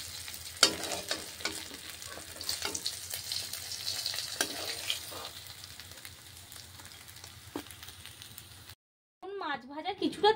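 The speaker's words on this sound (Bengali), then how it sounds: "এখন মাছটা আমি উল্টে পাল্টে ভালো করে ভেজে নিয়েছি লাল লাল করে" Rohu fish sizzles steadily in hot oil while being turned and stirred in the pan, with sharp scraping clatters punctuating the frying; near the end the sizzle cuts out and a person starts talking.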